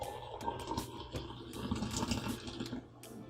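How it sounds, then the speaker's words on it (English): Eight ounces of water pouring into a cup of Taster's Choice House Blend instant coffee, a steady close trickle and splash running for a few seconds without talk. "So here we have our 8 ounces of water."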